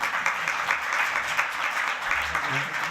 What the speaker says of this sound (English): A warm round of applause, please, for this gentleman.